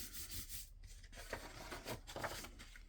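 Steady scratchy rubbing of folded paper pressed over wet paint dots to transfer them to the other side, a close, soft, continuous friction sound with slight rhythmic pulses.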